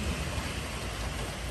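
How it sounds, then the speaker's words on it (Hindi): Sudden heavy rain in Norway pours down in a dense, steady roar with deep low rumbling beneath it. "अचानक से इतनी तेज बारिश हो रही है"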